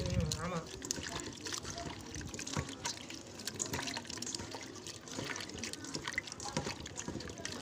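Raw bananas are washed by hand in water in a village kitchen, with splashing, dripping and trickling sounds close by and a voice talking over the whole stretch.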